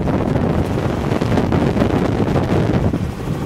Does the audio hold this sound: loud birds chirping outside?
no